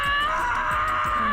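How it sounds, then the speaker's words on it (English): A man screams in terror in the Togainu no Chi visual novel, a loud, sustained, strained cry that holds steadily across the whole moment alongside low rhythmic thuds. "He was helpless to resist, so instead he screamed."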